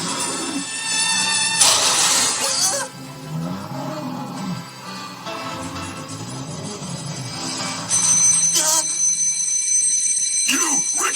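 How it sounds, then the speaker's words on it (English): An alarm rings in harsh, buzzing bursts, once early and again near the end, loud and close, with voices and cartoon sound effects in between. "Turn off this alarm!"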